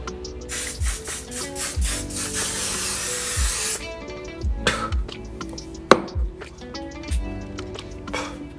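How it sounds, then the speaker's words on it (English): A can of makeup setting spray rattles with rhythmic knocking as it is shaken, then a long hissing spray burst, followed by more shaking and short sprays. "let's go ahead and spray this and shake it up first"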